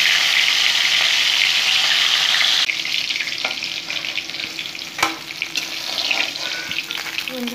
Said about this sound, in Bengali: সরষের তেল গরম করে এখন নুন হলুদ মাখিয়ে একটা মাছ ভেজে নেব